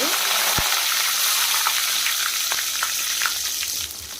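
Fresh curry leaves hit hot tempering oil with a loud, crackling sizzle that settles into steady frying, broken by a few sharp pops and utensil clicks, close and without speech.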